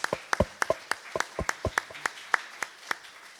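A church congregation at a Sunday service claps in applause, a scattered crowd of individual hand claps with sharp irregular peaks, moderately quiet, thinning out toward the end.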